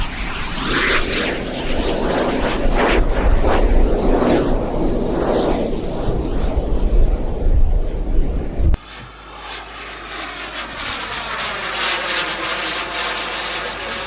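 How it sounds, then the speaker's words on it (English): A model F-14 Tomcat jet flies at the Little Gransden Air Show, its loud continuous engine roar rushing and rumbling, then cutting abruptly to a thinner, shifting whine as the jet sweeps past. "It's an F-14 Tomcat. Of course, it's a model. This was taken from the Little Gransden Air Show."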